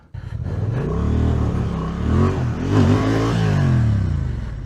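A Honda Transalp 750 motorcycle engine revs hard up close off-road, rising and falling in pitch through a few throttle bursts with a rough, throaty rumble.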